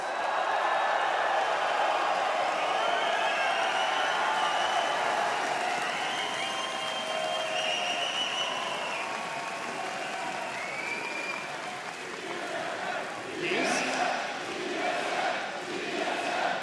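A large esports arena crowd roars and applauds as the trophy is lifted at the Apex Legends ALGS Final, a dense sustained wall of cheering that eases slightly before a sharp burst near the end.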